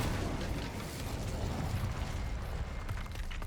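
An Incendio fire spell is cast in the Hogwarts Legacy video game, making a steady, dense roaring and crackling burst that holds loud and close for about three seconds, with no voices over it.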